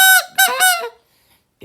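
A goose call blown with the hand off the call in a short burst of loud, raspy honks, about three notes close together, then silence.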